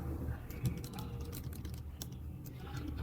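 Fingers type on a computer keyboard during a coding session, a steady patter of soft, close key clicks with no voice.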